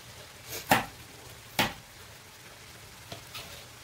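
Ground beef and onion frying in a pan give a soft background sizzle, broken by a few sharp scraping clicks of stirring, two prominent ones and some fainter ones later.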